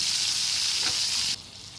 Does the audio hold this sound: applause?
no